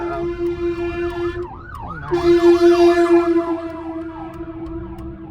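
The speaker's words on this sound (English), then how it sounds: "that horn that you heard was from the fire truck" A fire truck's siren wails loud and close in rising and falling sweeps, a steady horn blast sounding under it and breaking off briefly midway before both carry on together, with no voices.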